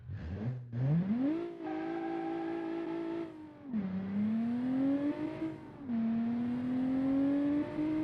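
A Honda NSX in a racing video game revs up through several gears, each pull rising in pitch before a brief drop at the shift, then climbing again; a loud, close, steady engine note with no talk over it.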